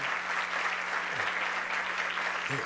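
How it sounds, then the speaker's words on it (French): A crowd claps steadily and warmly, with a faint low tone humming underneath. "J'aimerais justement qu'on appelle sur scène, qu'on applaudisse Raymond pour son travail déjà."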